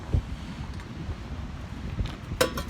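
Low, rumbling gusts of wind buffet the microphone continuously, with a few brief louder bumps and faint rustling on top.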